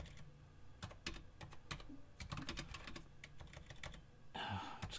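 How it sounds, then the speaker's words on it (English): Rapid clattering keystrokes on a new computer keyboard, irregular bursts of clicks typed in quick succession, quiet and close with a slightly heavier flurry at the end. "Just getting used to a new keyboard"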